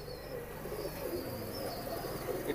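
A Blackless Shirting fancy pigeon held in the hand coos softly in a low, continuous murmur, close and quiet, with no talk.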